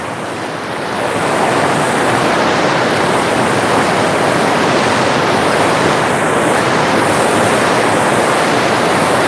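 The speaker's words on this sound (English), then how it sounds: "you can probably hear me over the rushing water" Steady, loud rushing of stream water beneath a bridge in historic Gyeongju, Korea, at dawn. The broad, continuous roar swells in within the first second and then holds evenly, with no voices.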